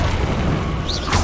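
A Confringo blast spell explodes in the Hogwarts Legacy video game: a single loud, dense boom with a rumbling low end that fills the whole short moment, with no talking over it.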